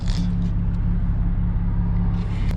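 A catless BMW E36 328i with no catalytic converter drones steadily from inside the cabin, its engine a loud, low, continuous rumble from start to end of the short drive.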